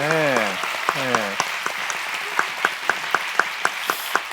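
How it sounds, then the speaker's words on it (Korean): Audience applause at a church retreat session, following a pastor's testimony: a stretch of scattered, rhythmic hand claps starts after a brief spoken phrase and carries on moderately loud to the end. "박수 한번 다시 주실래요?"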